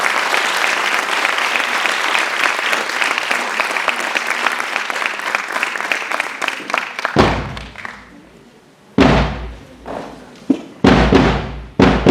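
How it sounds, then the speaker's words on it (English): Loud audience applause at a school investiture ceremony for a new student leadership team, dense sustained clapping for about seven seconds, then breaking off into a few thuds, short bursts of renewed clapping and bumps. "Let's give them a huge round of applause once more"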